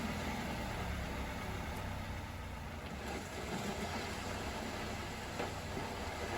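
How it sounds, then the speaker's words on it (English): Steady loud mechanical rumble of a running engine and faulty transmission, with a continuous churning, grinding texture throughout as debris rolls in the gear fluid. "you can hear that material rolling around in there once the gears pick up that fluid"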